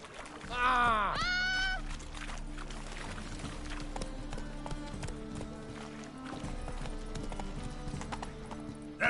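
Horse Roach trotting in The Witcher 3 on PS5, a steady close clip-clop of hooves running through the whole stretch, with a brief burst of another sound early on and game music layered underneath.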